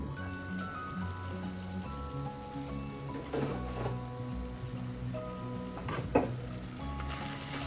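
Tomatoes sautéing in a covered pan for squid pepper fry, a steady soft sizzle and crackle with a couple of brief louder clatters, fairly quiet and close.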